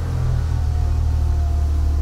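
A Dodge Challenger rumbles loudly and steadily, a low throbbing engine sound heard close up and continuous with no voices.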